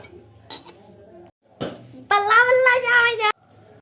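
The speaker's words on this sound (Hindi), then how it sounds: "तो इतने हम बर्तन धो लेते हैं" Dishes, pots and utensils being washed at a home kitchen sink, with clinks and clatter of metal and a burst of running water, while voices talk over it.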